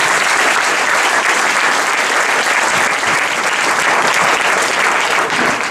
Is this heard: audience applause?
yes